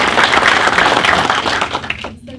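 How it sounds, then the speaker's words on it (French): A conference audience applauds, a dense, loud burst of clapping that holds steady and then trails off quickly near the end. "Je vous demande d'applaudir."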